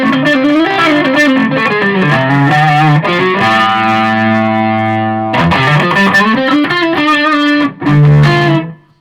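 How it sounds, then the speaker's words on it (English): Electric guitar played through a Supro Black Magick 25W amp with reverb and tremolo on, loud distorted chords and riffs with a long sustained ringing chord in the middle and a heavy final strum. "Obviously I've got reverb on now as well. Tremolo's still on."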